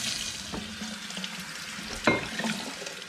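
Cider bottles holding a cherry, menthol and cinnamon hard apple cider are rinsed under water, giving a steady rushing hiss with a few soft knocks and one sharper clink of glass near the end.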